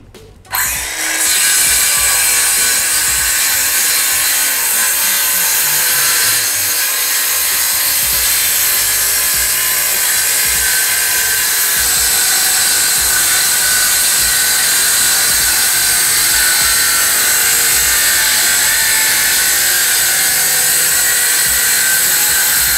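A cordless circular saw whines steadily through wood for a long stretch after a sharp start, loud and close, with a constant high buzzing roar.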